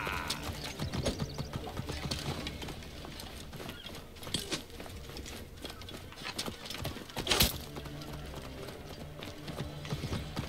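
Rhythmic clip-clop of horse hooves from a rider in Assassin's Creed Origins runs throughout amid busy mechanical game sounds, with a louder clatter partway through.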